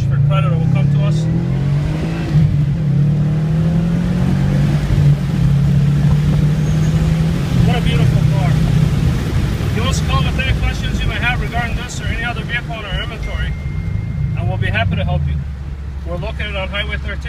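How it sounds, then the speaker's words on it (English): A 2012 Subaru Impreza WRX engine drones and rumbles steadily with wind buffeting through open windows, the exhaust note shifting in pitch as it accelerates, with someone talking over it. "let's have the windows down so you can hear the exhaust"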